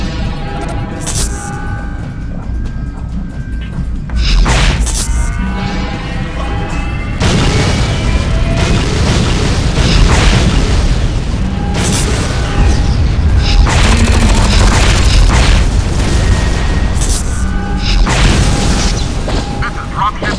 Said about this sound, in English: I survived because I got knocked off by the explosion.